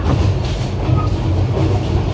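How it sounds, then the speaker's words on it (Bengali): Inside a large Bangladeshi passenger train, a loud, steady low rumble of wheels on rails fills the carriage with faint rhythmic clatter. "বাংলাদেশের সবচেয়ে বড় ট্রেন"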